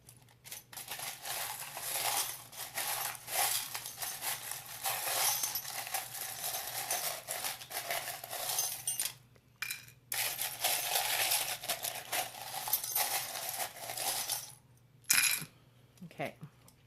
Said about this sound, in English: trying to shuffle my charms away from the camera because I was told it's too loud